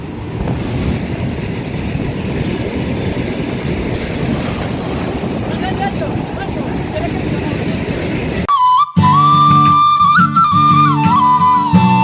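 A train rumbles past with rapid clattering wheels for several seconds, then a loud, sustained horn blares over the passing cars.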